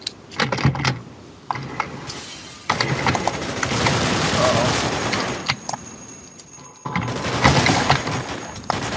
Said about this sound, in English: I'm just shooting whatever I see